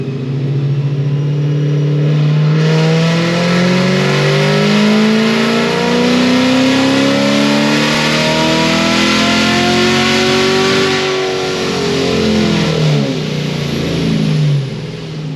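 Supercharged car with a Procharger and headers revving through a full pull on a dyno, loud and close, its pitch climbing steadily for over ten seconds before easing off at the end.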